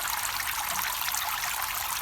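Water trickles steadily into a fish pond on a farm, a continuous close splashing stream with no voices.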